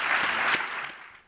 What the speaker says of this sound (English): give these phenomenal CFOs, younger CFOs according to the list, a huge round of applause